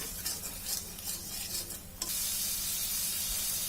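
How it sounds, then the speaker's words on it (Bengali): Spice paste with turmeric and salt stir-fried in a pan for a Bengali ol data dish, a close, steady sizzle with scraping stirs that swells into louder continuous frying hiss halfway through. "মশলাটা আমি ভালোভাবে কষিয়ে নেব।"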